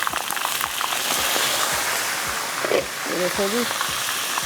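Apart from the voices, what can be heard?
eggplant frying in a pan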